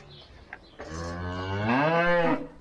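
A black Angus cow on a farm lets out a single long, loud, nearby moo that rises and holds before tapering off, with quiet outdoor air before it.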